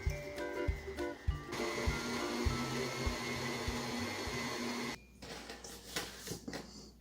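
Electric mixer beating butter and sugar in a bowl for a cake-pop batter, a steady loud whirring motor drone with scraping clatter, starting after some knocks and cutting off near the end, followed by quieter handling noises.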